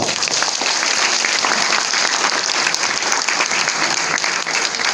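A room full of people at a Seo-gu, Incheon residents' autonomy council year-end party claps in encouragement, a dense, loud, even burst of applause sustained from start to finish.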